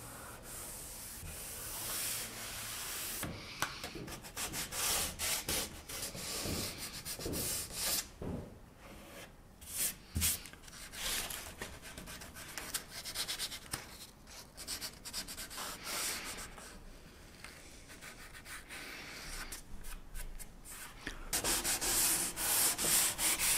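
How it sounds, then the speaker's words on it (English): Continuous sanding on a painted wooden chest of drawers during restoration, a close, gritty rubbing that keeps going with irregular strokes and brief pauses, no talking. "Finally, it was time to sand the rest of the piece."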